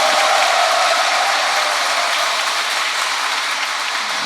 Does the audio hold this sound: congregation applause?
yes